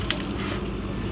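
Zalabia batter being kneaded by hand, a short wet squishing of dough worked against the bowl, close and steady.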